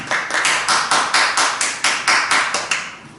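A church congregation claps together in a steady, even rhythm, one sharp burst about every fifth of a second for a few seconds, close and moderately loud, with no talking over it.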